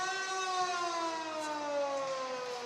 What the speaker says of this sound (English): the sound of the siren.